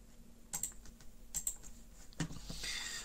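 Typing a search on a computer keyboard, a handful of quick key clicks in short bursts, close and fairly quiet, with no talking.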